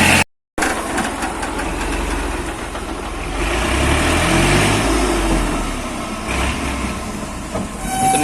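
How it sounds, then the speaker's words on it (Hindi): A tractor engine runs with a steady, loud diesel rumble while a trolley unloads soil, swelling slightly in the middle, close up and with no talk. "मट्टी उतार रहे हैं ट्राली वाले।"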